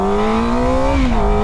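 A QJ SRK 450 motorcycle engine revs high and steady, a loud, close, buzzing note holding level and then dipping slightly near the end, with no voices.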